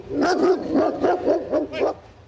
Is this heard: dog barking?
yes